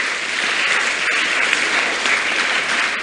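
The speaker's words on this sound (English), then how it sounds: "So let's clap for ourselves." An audience at a scholarship award event applauds steadily, a dense, even clapping that fills the room for a few seconds without speech.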